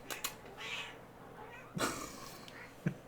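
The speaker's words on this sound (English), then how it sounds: "My cat's over there." A pet cat meows indoors, a few short, faint calls spaced across a quiet room with low background hum.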